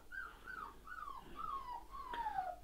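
Rottweiler puppies in a litter howl and whimper in a run of rising and falling high-pitched wails, about five drawn-out cries in close succession, near and fairly quiet, with no talking.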